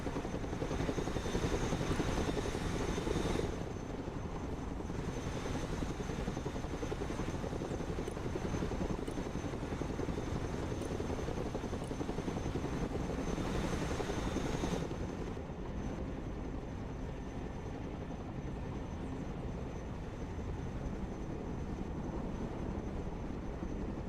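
A Chinook heavy transport helicopter in the war game Broken Arrow drones with a loud, steady rotor and engine rumble that swells and fades in a few broad surges before settling into an even hum.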